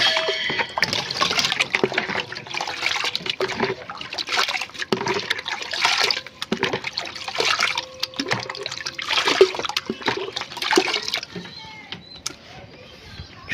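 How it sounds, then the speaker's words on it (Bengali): Water being mixed for pigeons, with repeated sloshing, swirling and splashing in bursts and some small knocks of a container, close and fairly loud, with no talking. "তো এই জলটাকে এবার ভালোভাবে মেশাতে হবে।"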